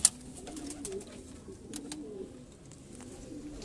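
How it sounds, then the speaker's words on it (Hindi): Breeder pigeons in a rooftop loft in the old city of Lahore coo softly in low, rolling calls, several birds overlapping at moderate distance, with a brief sharp click at the start and faint background noise. "चौधरी साहब वाले कबूतर"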